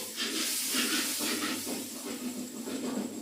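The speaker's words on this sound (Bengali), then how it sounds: "এখানে শাক ফ্রাই করতেছ" Leafy greens (saag) frying in a pan in an indoor kitchen, a steady sizzling hiss with soft crackles that swells and eases over a few seconds, with no talk.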